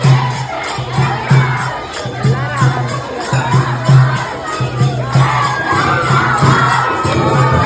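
A devotional bhajan crowd at a Delhi temple at midnight on Krishna Jayanthi, loud massed voices chanting in a rhythmic pulsing call with a steady repeated beat, cheering and shouting rising over the din.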